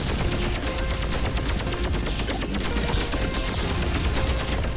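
Dense, sustained video-game gunfire from enemies shooting, rapid automatic bursts and crackling shots layered continuously over a loud mix with no pause throughout.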